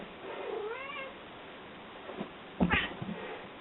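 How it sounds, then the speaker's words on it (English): A house cat named Timmy lets out a drawn-out meow after its paw is stepped on during a home workout, followed a moment later by a sharper, shorter yowl, close and clear in a quiet room. "Oops, I just jumped on the cat's paw"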